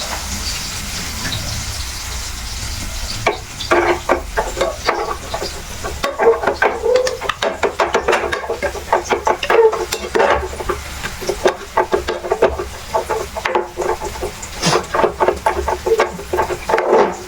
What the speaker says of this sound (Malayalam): അതുപോലെ വാഴത്തേത് ഈ ഉരുളക്കിഴങ്ങ് ഉടച്ചു കൊടുക്കുക.